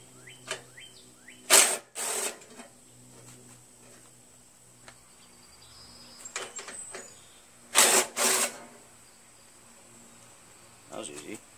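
Bolts being removed from a Jacobsen Imperial 26 dual-stage snow blower with a 6HP Tecumseh engine, heard as two pairs of short, loud power-tool bursts spaced apart, with faint background noise between them.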